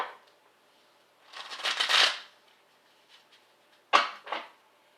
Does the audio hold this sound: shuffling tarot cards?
yes